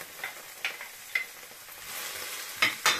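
Onion, pepper, potato, garlic, leek and carrot sauté in a pan with a low, even sizzle, punctuated by a few sharp scrapes and taps of a utensil, close and fairly quiet, without voices.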